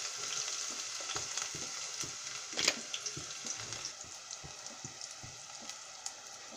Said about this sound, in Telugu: మనం ముందుగా తీసి పెట్టుకున్న లవంగాలు, ఆనియన్స్, ముందుగా మనం కట్ చేసి పెట్టుకున్న ఆనియన్స్ వేసేద్దాం.